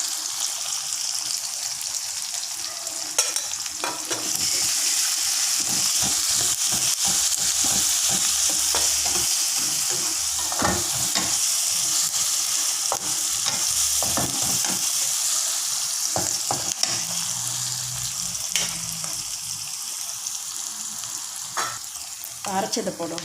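Pumpkin stir-frying with ginger and garlic in a pan, a steady close sizzle running throughout, broken by repeated scraping and clinking strokes of a spatula.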